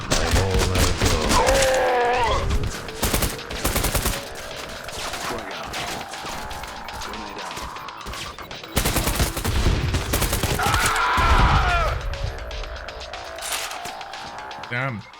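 Gunfire in the first-person shooter Trepang2, with dense bursts of automatic shots and heavy impacts running throughout, loud and close, under an energetic voice talking over much of the action.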